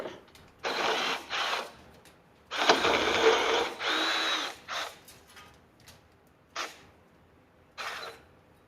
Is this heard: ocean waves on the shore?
no